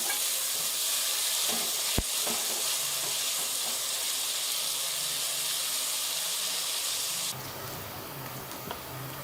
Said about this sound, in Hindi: इसको थोड़ा सा फ्राई करके निकाल लेंगे प्याजों को।